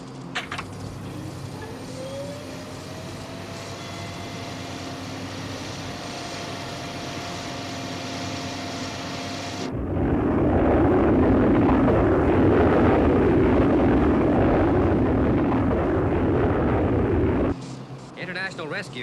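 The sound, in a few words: Thunderbird 1 aircraft flying, TV show sound effect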